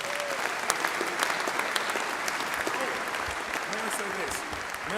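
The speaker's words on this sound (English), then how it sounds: "Give her a big round of applause, please." An audience at a university graduation ceremony breaks into sustained, dense applause, loud and continuous across the hall, with voices faintly audible beneath.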